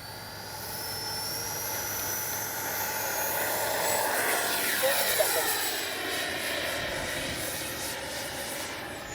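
HobbyKing Viper 64 RC jet taking off, its high ducted-fan whine rising and sweeping in pitch as it accelerates and passes close by, loud and steady with voices faintly underneath.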